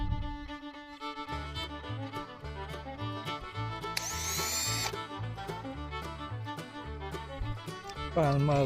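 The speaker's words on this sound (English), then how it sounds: "I am pre-drilling these because I'm making it out of a 2x2 frame." A power drill pre-drills screw holes in a 2x2 wooden frame for an outdoor cabin kitchen, giving one short whirring burst of under a second midway through, with steady background music playing throughout.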